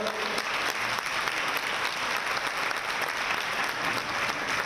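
Audience applause at a Miss Guinea Ecuatorial beauty pageant evening, a steady, dense wash of clapping from a large crowd that holds at an even, fairly loud level throughout.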